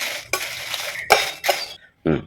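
Dried red chillies fry in a little oil in a pan, heard as loud metallic scrapes and clanks of a stirring utensil in bursts, with a faint sizzle between strokes.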